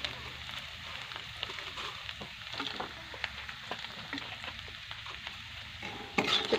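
Chutney and chopped capsicum sautéed in a pan, with a steady close sizzle and frying hiss broken by scraping stir strokes throughout, growing louder near the end.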